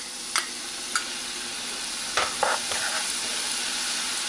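Garlic dropped into hot oil for chili oil crackles with a steady close sizzle, punctuated by a few sharp ticks and brief bursts of bubbling as it is nudged around.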